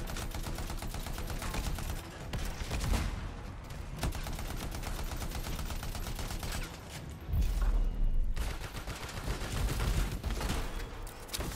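Sustained turret gunfire rattles through a combat scene in the Anthem video game, dense rapid bursts layered with heavy booms and impacts, loud and continuous with a louder barrage near the end.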